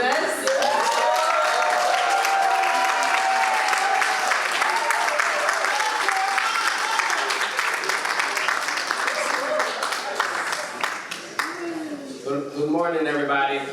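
Audience at a convention applauding to welcome a speaker, dense sustained clapping from a large crowd, with a voice talking over it and a louder cheer near the end.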